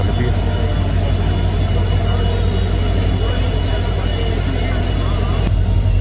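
A passenger train moves off from platform 1 at Rajpura, heard as a loud, constant low rumble and rattle close by that continues throughout, with a faint high whine and a small drop near the end.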